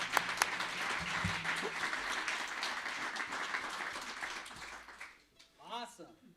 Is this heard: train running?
no